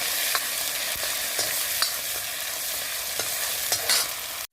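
Cumin seeds, two or three red chillies and ginger paste sizzle in hot oil for a whole moong dal tadka, a steady crackling fry with a few stirring scrapes, close and alone.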